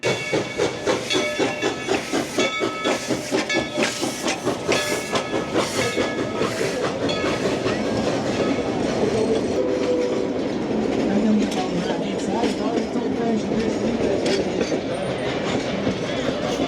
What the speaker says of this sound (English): I think I hear the train coming.